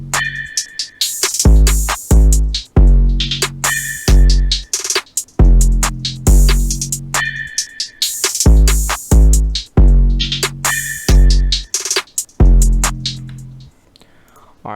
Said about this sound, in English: all the drums together sound like this